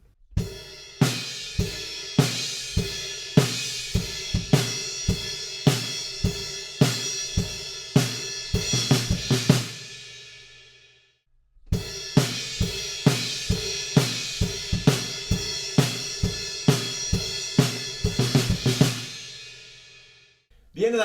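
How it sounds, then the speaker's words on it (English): A drum pattern plays steady, loud hits with crash cymbal accents washing over the top, in two similar passages separated by a brief silence. "I can hear a couple of extra accents on the crash cymbal"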